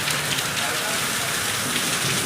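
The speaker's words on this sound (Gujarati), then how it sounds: "આપણે મેહોણા વરસાદ આવી ગયો." Heavy rain pours down in Mehsana, a steady, loud, dense hiss of drops striking surfaces close by, continuous with no voices.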